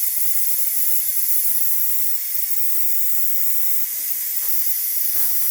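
Steam pours from a pot of freshly cooked beans, a continuous bright hiss held close and steady, with faint soft clinks and rustles beneath it near the end.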